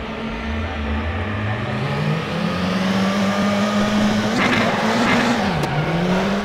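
Race cars revving hard at the start of a race in the RaceRoom racing game, a loud, continuous engine roar climbing in pitch as the pack accelerates, with no talking over it.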